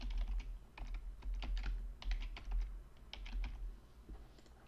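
Quick, light typing on a computer keyboard as a campaign name is entered, with irregular bursts of soft clicking keystrokes, close and fairly quiet, no talking.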